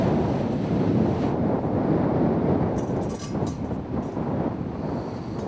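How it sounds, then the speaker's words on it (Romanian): Strong, steady wind roars across an open Icelandic desert, buffeting the microphone with a loud, continuous rush that swells slightly in gusts throughout. "Până se oprește vântul?"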